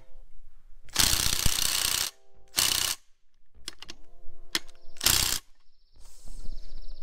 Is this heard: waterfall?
no